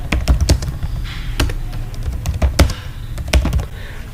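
Text typed into Notepad on a computer keyboard, heard close up as quick, irregular clusters of crisp key taps with short pauses between bursts.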